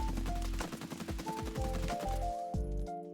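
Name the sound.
gunfire from a heavy-build assault rifle in a video game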